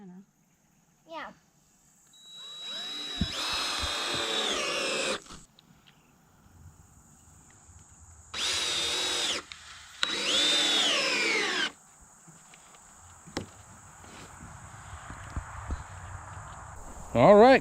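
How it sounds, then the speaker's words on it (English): A power drill driving screws into the wood of a garden box, several loud whirring bursts of a few seconds each separated by pauses, with people talking and moving around between the runs. "We need a different drill."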